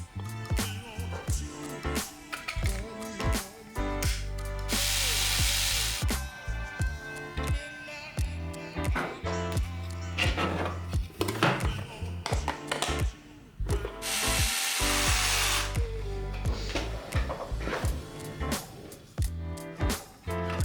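Metric 3x8mm and 3x12mm screws are driven to fasten the front frame assembly of a 3D printed 1/10 scale BMW M4 G82 RC car, giving repeated mechanical ratcheting and clicking with two longer dense whirring bursts, close and fairly loud.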